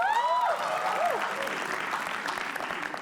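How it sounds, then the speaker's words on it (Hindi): Live roast audience applauding comedian-actor Chirag Panjwani as he is introduced, a short burst of crowd clapping with a voice and whoops at the start, fairly close and steady. "तालियां एक बार प्लीज"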